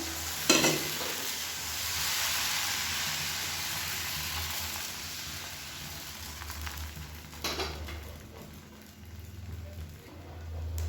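Appam batter hisses and sizzles steadily in a hot appam pan, a continuous close frying crackle with a short sharper burst near the start and another around seven seconds.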